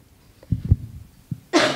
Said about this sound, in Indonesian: sorry ya, aduh masih batuk.